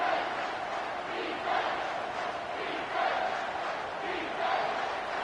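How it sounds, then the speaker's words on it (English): Stadium crowd noise from a football video game swells and roars in steady waves across the whole stretch, loud and continuous, with no distinct voices standing out. "Decibels rising as the crowd gets behind this defense on 3rd down."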